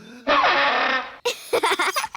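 A silly cartoon instrument called a spal throttle gives a loud, rough, raspy blat that holds for about a second, then breaks into several short sputtering honks.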